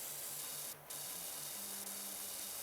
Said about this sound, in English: The gutter in the first couple feet so I have somewhere to stand while I'm spraying.